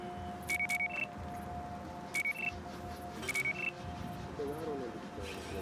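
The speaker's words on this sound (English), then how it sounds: "That alarm will call more of them in unless you disable it." Electronic alarm in the video game Battlefield Hardline beeping in three short bursts of rapid, high-pitched tones spread over a few seconds, heard over a low steady hum and ambient game noise.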